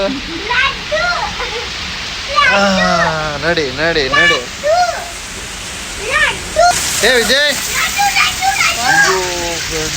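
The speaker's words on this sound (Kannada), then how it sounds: "ಮಳೆ ಯಾವ ಥರ ಸುರಿತಾ ಇದೆ ಅಂತ ನೋಡಿದ್ರಲ್ವಾ" Steady heavy rain hisses throughout while children shout and call out excitedly close by.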